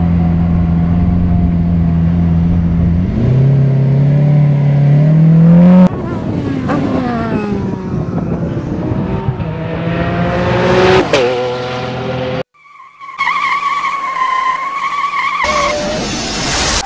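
A go-kart engine revs hard while its tires skid and squeal, loud and close, with abrupt cuts between bursts and a brief near-silent gap partway through.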